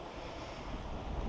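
Strong wind buffets the microphone in a continuous low roar, gusting slightly louder toward the end.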